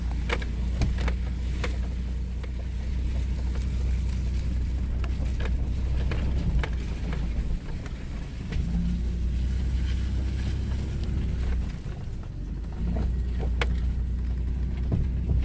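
A Toyota 4Runner grinds along an off-road trail at Land Between the Lakes, Kentucky, its engine a steady low rumble with scattered clicks and knocks from the vehicle body, close and continuous without talk.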